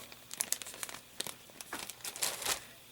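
A paper instruction sheet for a 1/72 Star Wars X-Wing model kit crinkles and rustles as its accordion folds are opened, a run of close crisp crackles and snaps with no talking.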